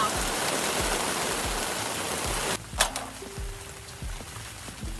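Steady, dense rain hisses outside near a balcony greenhouse, then drops away abruptly halfway through, leaving scattered drips and faint patter.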